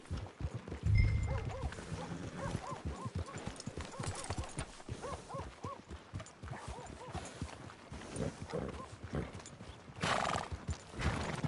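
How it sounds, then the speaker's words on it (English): A horse whinnies loudly and its hooves clip-clop in a steady walking rhythm for several seconds, close by, with the neigh rising out over the hoofbeats and faint voices around it. "Can't you control that damn horse?"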